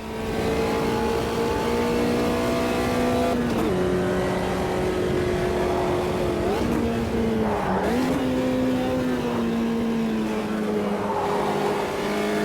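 Classic race cars in Automobilista 2 roar loudly together with sustained engine tones that rise, dip at gear changes and climb again through a racing corner, the revving tightly layered and continuous.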